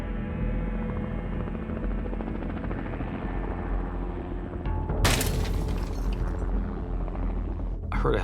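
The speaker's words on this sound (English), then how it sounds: "heard a helicopter." A tourist helicopter flies near a volcano, its rotor thumping in a steady loud drone throughout, with a sudden burst of noise midway as it passes.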